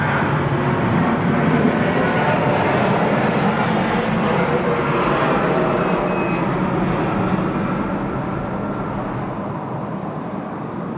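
Hawaiian Airlines airliner on its takeoff roll down runway 16 right, a loud, steady broadband jet roar that holds strong for several seconds and then eases slightly as it pulls away, with no talk over it.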